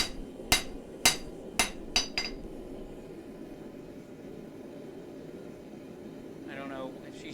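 Hot steel is hammered at a forge while a chef knife is shaped, with five sharp ringing blows in the first two seconds, then a low steady hum of shop noise.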